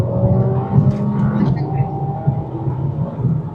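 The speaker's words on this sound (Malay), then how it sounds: "Macam tu lah bunyi dah, sebab engine masih standard lah." The stock engine of a Mercedes A35 AWD revs in a deep, throbbing rumble that swells and settles, heard close and fairly loud, with a voice partly over it.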